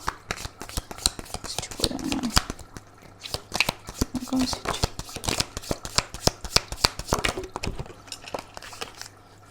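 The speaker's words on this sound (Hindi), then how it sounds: "थोड़े से और कार्ड्स निकालना चाहूँगी मैं" Tarot cards are shuffled and drawn in a steady run of crisp, close riffling snaps and slaps while someone speaks softly over them.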